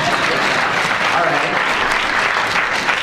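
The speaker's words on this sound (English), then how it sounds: "I like this idea of clapping for everyone." An audience at a talk by a Christian author applauds steadily, a dense and even wash of clapping held at the same loudness throughout.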